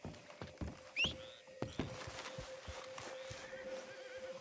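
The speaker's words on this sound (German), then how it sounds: "Dann steige ich mal auf mein Pferd." Horse in Red Dead Redemption 2 gives a short whinny near the start, followed by steady hoof clip-clop on a trail, moderately near with ambient game sounds and no talking.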